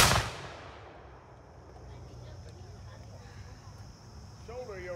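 A company of firelocks fires a single musket volley on command at the David Hall Cabin: one loud, sharp blast at the start that then decays into a long outdoor reverberation, with insects chirping faintly in the background and a brief voice at the end.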